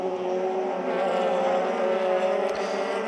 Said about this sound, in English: Kasiri defends from Wililko on the brakes into turn 1